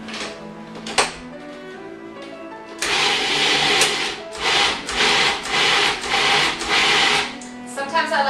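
A food processor blends sunflower pate in loud, close bursts of whirring grind with brief pulses and pauses, after some faint handling clatter at the start.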